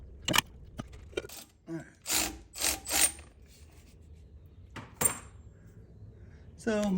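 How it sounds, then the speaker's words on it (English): A sway bar bolt is worked loose on a Jeep during Metalcloak and Clayton Offroad upgrades, with sharp metallic clanks and a run of rhythmic rasping wrench strokes, close and fairly loud, separated by quiet gaps. "Take off the sway bar bolt."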